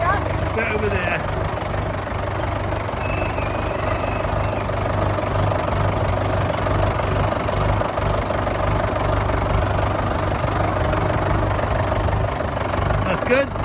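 A Fordson Major tractor engine idles close by with a steady low rumble and faint knocking texture, continuous throughout, while people talk over it.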